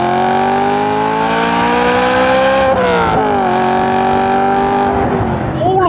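A BMW M3 E92 with a manual gearbox and V8 engine revs hard while driving, its loud, close engine note climbing steadily, dipping briefly at a gear change, then rising again.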